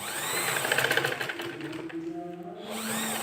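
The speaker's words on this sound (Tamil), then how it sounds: "இந்த வளைவான பகுதியில் நான் தைக்க போகிறேன்" Sewing machine stitching a curved section of fabric while the material is fed loosely by hand, a steady close mechanical whir with rapid needle rhythm for about three seconds, alone without talk.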